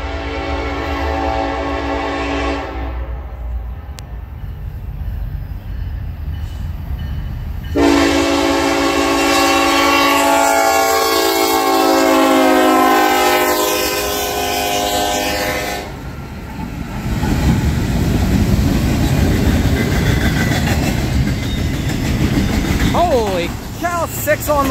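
A Norfolk Southern intermodal freight train with six locomotives on the front passes through Homestead, Pennsylvania, its horn blowing in long loud blasts over the rumble of the moving cars, close by.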